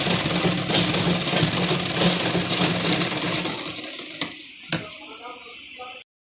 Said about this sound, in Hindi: फिर इसके ऊपर सिलाई लगा लेंगे पूरे पर।